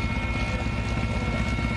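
Steady, loud helicopter rotor and engine drone heard from inside the cabin on a high-altitude flight over the Siachen and Ladakh region, a continuous low rumble with no breaks.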